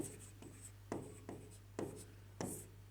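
Pen or chalk strokes writing out a Class 10 maths geometry problem on a board or paper, a series of scratchy strokes with sharp onsets, steady and close over a low constant hum.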